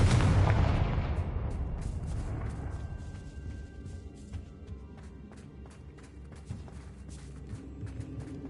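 A Confringo fire spell blasts in Hogwarts Legacy on PS5: one heavy booming explosion opens loud and rolls away over several seconds, followed by scattered light clicks and thumps.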